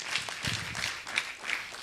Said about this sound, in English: You better give her a round of applause.